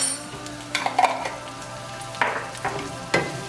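Minced garlic and vegetables sizzle steadily in melted butter in a pan for seafood pasta, with a few louder scrapes and stirs breaking through the constant frying hiss.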